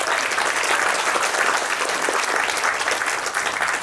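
Steady, full round of applause from the audience at a community forum on data centers in Frederick County, continuous clapping throughout without speech.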